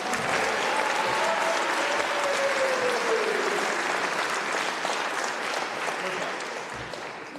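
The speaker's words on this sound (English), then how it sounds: "Let's give our seniors another round of applause." Sustained audience applause for graduating seniors at a junior high and high school band concert, filling the hall loudly and steadily before tapering slightly near the end, with a faint voice drifting underneath.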